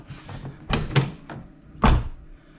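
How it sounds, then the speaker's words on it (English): A Jeep Cherokee XJ door, its frame damage repaired, shuts twice with solid, close thunks, the second one the heavier, with faint handling noise between them. "Doors are closing and opening beautifully."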